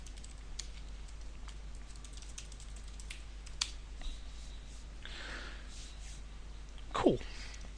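Computer keyboard being typed on during a coding screencast, with sparse, faint key clicks over a quiet background and one slightly louder thump near the end.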